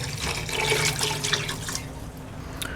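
Water pours steadily into a metal pressure cooker while making palak gosht, a continuous splashing rush with no voices.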